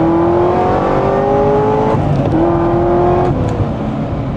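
A Corvette C6 engine pulls hard under acceleration, its loud, steady rising drone climbing through gears with brief shift dips, close and continuous with no talk.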